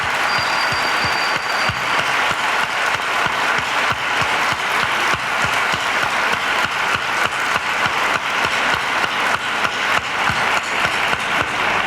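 Sustained audience applause at a talk on childhood and adolescence, a crowd clapping steadily and loudly for the full stretch, individual claps faintly distinct within the dense roar, no speech over it.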